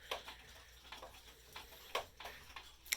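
A broken wall clock that no longer chimes on the hour ticks quietly and evenly, with about ten crisp, close ticks in a steady tick-tock rhythm and no talk.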